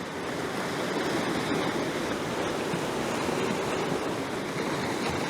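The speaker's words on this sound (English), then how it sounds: "And you get the waves crashing in." Waves crash steadily against the rocky Northumberland coast, giving a constant, dense roar of surf and spray with no pauses and no voices.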